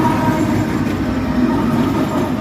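A freight train with a distributed power locomotive rolls past near an abandoned spur bridge, a steady loud rumble of wheels and cars that carries on without a break.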